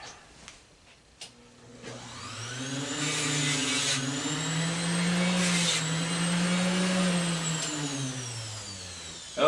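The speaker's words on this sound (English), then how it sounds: "Grind the head of one of those." An angle grinder cuts into the head of a stainless steel screw from a scrapped faucet. A few clicks come first, then the motor spins up into a loud, steady whine that wavers in pitch and eases off at the end.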